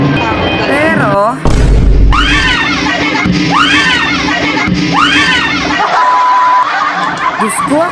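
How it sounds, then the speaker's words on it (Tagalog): A woman screams in fright during a scare prank, letting out several shrill, arching shrieks in quick succession. A heavy thump and snickering laughter come in between the screams. "Diyos ko, ako pa unang tumili sa kanila."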